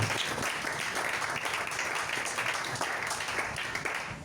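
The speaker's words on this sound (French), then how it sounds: "Acclamons pour la bien-aimée." Applause from a church congregation, a steady wash of many hands clapping at moderate distance that holds for several seconds before tapering slightly.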